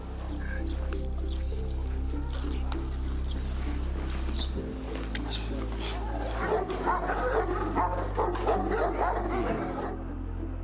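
A search-and-rescue dog from the Netherlands barks to signal that it has found a person, with several close barks and yips while people talk and give commands.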